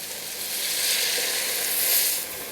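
Hot pan sizzling loudly as corn stock hits cooked corn for a chilled sweet corn coconut soup, a steady broadband hiss that swells and holds for a couple of seconds.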